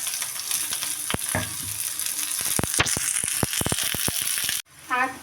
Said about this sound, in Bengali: পেঁয়াজটা হাফ ভাজা হয়ে গেছে